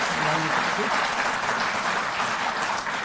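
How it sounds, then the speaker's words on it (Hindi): A crowd at a Delhi Jal Board event gives loud, sustained applause, dense clapping filling the hall with a voice underneath. "तो एक बार जोरदार ताली।"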